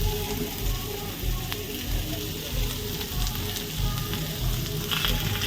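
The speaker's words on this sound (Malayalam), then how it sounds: "നന്നായിട്ട് വഴറ്റുക" Salted ingredients sauté in a pan for egg masala, giving a steady, close sizzle that runs throughout, with faint scraping from stirring now and then.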